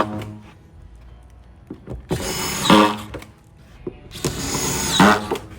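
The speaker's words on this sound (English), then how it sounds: "the beauty about using the quick drive with the screws is that we're sucking all those tight" A Quick Drive auto-feed screw gun drives screws into a house subfloor, pulling it tight to the trusses, in two loud whirring bursts of about a second each, separated by quieter clicks and handling noise.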